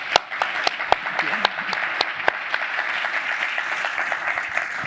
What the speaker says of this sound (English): How about one more round of applause for Ella?